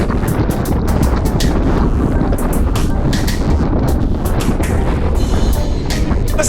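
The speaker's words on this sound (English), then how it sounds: "Listen to that wind." Strong, steady wind roars and buffets across an open road during a group cycling ride, a loud continuous rushing that fills the whole clip with gusty rumble and no let-up.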